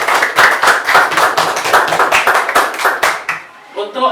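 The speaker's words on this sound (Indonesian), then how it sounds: "Tepuk tangan untuk kita semua." A primary-school class claps together in quick, steady rhythmic claps, close and loud for about three seconds, before a voice speaks.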